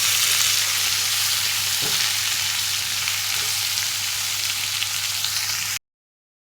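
Pineapple and green chillies fry in a pan of popped mustard seeds for pineapple pulissery, giving a loud, steady sizzle and hiss with a faint stir partway through. The sound cuts off abruptly at the end, and no one speaks.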